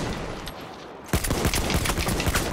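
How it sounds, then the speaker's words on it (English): Rapid gunfire in Battlefield 1 beta multiplayer, a dense burst of automatic shots starting abruptly after a second of quieter background and continuing loud and close to the end. "They're firing at me."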